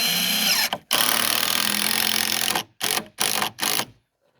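A small Porter Cable impact screwdriver drives screws into 2x4s for homestead steps, loud and close, with a long whirring burst, then several short rapid bursts before it stops into silence.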